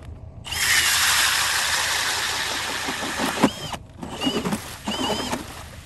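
A Nilskimo 8-inch ice auger with gear reduction, running in second gear, bores through ice with a loud, sustained whirring drone that stops briefly twice and restarts in shorter bursts.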